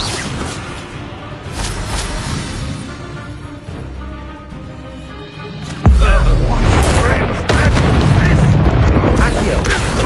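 Incendio fire spells cast during a Hogwarts Legacy fight hit with a sudden deep, loud boom partway through. Dense, roaring fiery noise follows, and speech runs under the effects.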